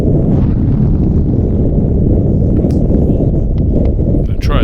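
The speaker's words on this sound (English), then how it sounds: "I cannot hold the camera still because of the high wind" Strong, roughly 50 mph wind roars continuously at Meteor Crater, buffeting the microphone with a loud, steady low rumble that never lets up.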